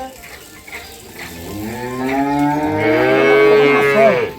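A Jersey cow at a cattle market lets out one long, loud, close moo that swells and holds steady before trailing off, with faint crowd noise behind it.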